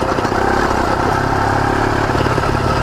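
CDH110 110cc motorized bike engine chugging slowly up a very steep hill at barely cracked throttle: a loud, close, steady low thrumming with a rapid uneven putter, heard alone with no talk.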